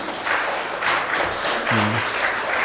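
Congregation applause during a Sunday church service, a steady spread of clapping from the pews lasting a few seconds, with a brief voice tone sounding partway through.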